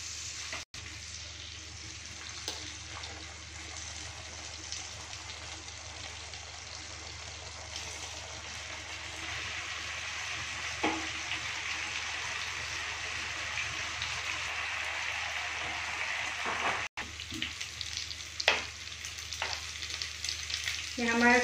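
Soya chaap frying in hot ghee with a little butter, a steady close sizzle and crackle that runs the whole time, with a few soft clinks of a utensil and no talking.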